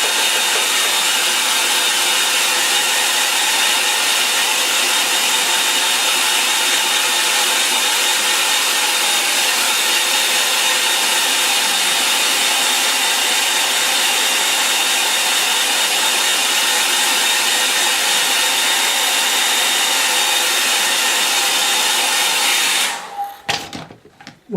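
A hair dryer blows steadily and loudly for over twenty seconds in an outdoor mountain setting, its even whir filling the space until it cuts off abruptly near the end.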